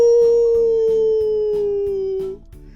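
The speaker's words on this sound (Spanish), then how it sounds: "El aullido dura mucho porque el lobo le hace ¡au!" A single wolf holds one long, steady howl that slowly falls in pitch and then stops, loud and clear, over a faint rhythmic background beat.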